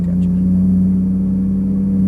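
Ferrari 458 Italia engine while driving on a track, a steady, strong low drone with a constant tone, close and continuous, no talking.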